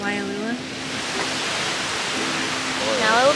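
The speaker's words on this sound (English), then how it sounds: "Waialua Falls." Waialua Falls, a waterfall in Hawaii, gives a steady broadband rush of falling water throughout, with voices talking over it at the start and again near the end.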